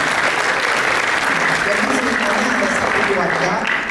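Audience at a youth integrity seminar breaks into dense, continuous applause, loud and close throughout with no pauses.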